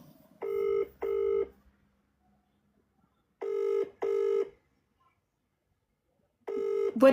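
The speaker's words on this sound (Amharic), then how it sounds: "ያው እየደወልኩ ነው፣ እየጠራ ነው፣ አያነሱም።" A phone rings unanswered: three pairs of electronic ring tones separated by silent gaps, clear and close, with no one picking up.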